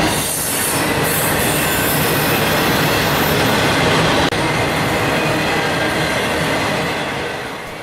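A southbound intermodal freight hotshot running from North Bergen, New Jersey to Jacksonville, Florida rolls past close by: a loud, steady rumble of railcars with high wheel squeal, continuous throughout and easing slightly at the end, with no voices.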